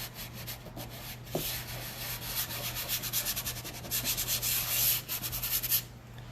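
A hand rubbing and smoothing down a stencil on a bed tray, giving a close, continuous scratchy swishing in repeated strokes with no talking.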